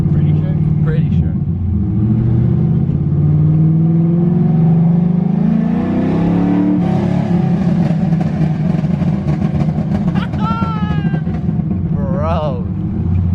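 Loud exhaust from a Nissan S13 with a Rocket Bunny kit creeping along at low speed, a deep droning engine note rising in pitch, with people talking and laughing over it.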